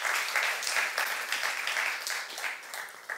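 A church youth congregation claps during a sermon, a steady, moderately distant patter of many hands continuing throughout.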